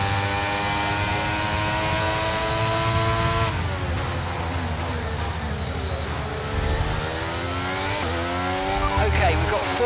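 A race car engine in the F1 23 video game wails and shifts through gears with rising and falling pitch, loud and continuous. A brief voice is heard over it.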